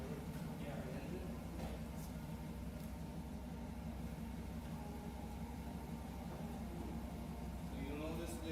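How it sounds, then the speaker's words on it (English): A car engine idling steadily after starting, a low continuous hum throughout, with a person talking over it. "you'll notice the sound of the engine changed from when it started till now"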